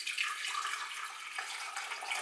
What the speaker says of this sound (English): Pour in my filtered water.